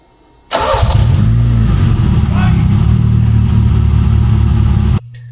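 A 5-speed Beretta Z26 with a Quad 4 engine cranks, fires up and revs, then holds a loud, rough, steady running roar close by for several seconds before cutting off abruptly.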